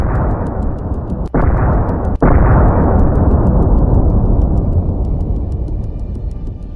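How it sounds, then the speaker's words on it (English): A loud, close HIMARS precision strike explosion destroys a Russian artillery system, two sharp cracks followed by a long, heavy rumbling roar that slowly fades. "a HIMARS precision strike destroyed it"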